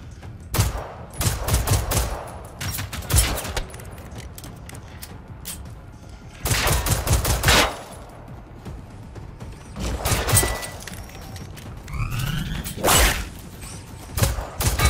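In the video game Generation Zero, a machine robot fires at the player in several loud bursts of rapid automatic gunfire, broken up by mechanical whirs and whooshes between the volleys.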